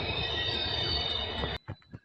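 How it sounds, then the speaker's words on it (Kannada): A passenger train arriving at Bantwal station, a loud continuous rumble of wheels and cars with metallic high-pitched squeal, cutting off sharply near the end as a few quieter knocks follow. "ಫೈನಲಿ ನಮ್ಮ ಟ್ರೈನ್ ಬಂದಿದೆ"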